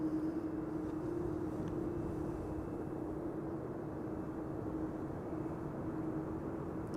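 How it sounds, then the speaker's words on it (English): An EasyJet Airbus A319 airliner arrives at Amsterdam Schiphol on a frosty day, its engines a steady, distant broadband roar with a faint whine, continuous and even throughout. "there's an EasyJet A319 arriving from Geneva in Switzerland"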